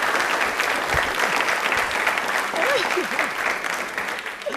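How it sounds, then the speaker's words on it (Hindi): Studio audience on a TV quiz show applauding, sustained dense clapping at steady loudness for several seconds, with some faint voices underneath. "Please एक बार जोरदार तालियां हो जाएं इनके लिए."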